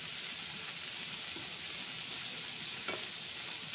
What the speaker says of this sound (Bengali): ধোয়া সুন্দর করে ধুয়ে খোসাগুলো দিয়ে দিলাম।